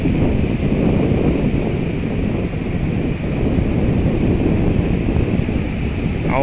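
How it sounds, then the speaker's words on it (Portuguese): Strong wind roaring steadily into the microphone at Maragogi beach, Alagoas, Brazil, with a broad rushing noise and what may be surf beneath it; no talking. "Tá um pouco ventando, pessoal"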